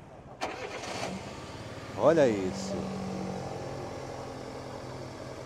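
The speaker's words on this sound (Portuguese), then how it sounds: "o amigo vai dar partida aqui no motor para a gente escutar ele funcionando" A used car's engine is started: after a short grinding crank it catches with a brief rev, then settles into a low, steady idle, while someone speaks briefly nearby.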